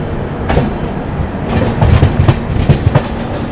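The Dibrugarh–New Delhi Rajdhani Express rolls past on the line near Lucknow, loud and close, its wheels clattering in a steady clickety-clack rhythm over the rails.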